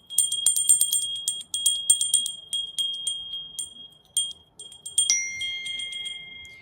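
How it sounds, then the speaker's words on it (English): A bell rings in quick bursts of bright, repeated strikes separated by short pauses. It ends in a longer sustained chime, clear and close in a quiet room. "Wait. Bell."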